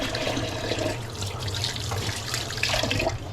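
Tap water runs steadily into a kitchen sink while hands are washed under it, a continuous splashing flow with small shifts in tone, close and fairly loud, with no talking.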